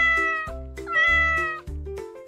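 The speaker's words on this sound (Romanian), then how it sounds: "Sunetul pisicii este:" A cat meows loudly and close up, three drawn-out tonal cries in quick succession with no other sound around them.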